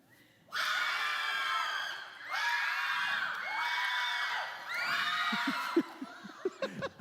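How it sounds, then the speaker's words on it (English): A crowd of students cheers and screams in loud, overlapping bursts of high voices that rise and fall in several waves, then breaks into scattered laughter and shouts. "the same group of people are cheering for both."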